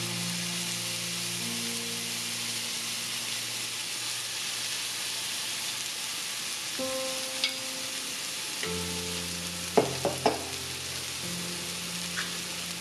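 Mustard paste frying in a pan for a Bangladeshi tomato vhorta, a soft steady sizzle with a few sharp clicks of a spoon stirring against the pan toward the end.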